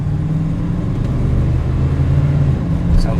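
A 1978 Chevrolet Corvette's engine pulls away from a stop sign with a loud, steady low rumble and throbbing exhaust tone under acceleration, heard close up from inside the car.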